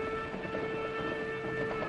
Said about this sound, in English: There's our train.